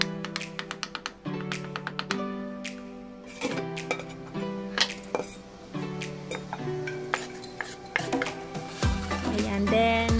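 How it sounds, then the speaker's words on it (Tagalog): Knife mincing banana peel on a cutting board, a steady series of sharp, close taps and clinks, quick and somewhat irregular, some overlapping with a bright ringing note, without talk. "Then cut lang natin siya ng maliliit. So parang i-mince natin yung balat ng saging."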